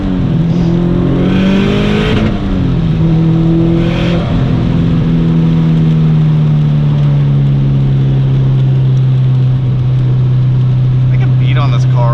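A 2005 Subaru STI engine revs hard and loud while being driven aggressively, its tone climbing and holding high under sustained throttle, with a brief lift and re-rev early on.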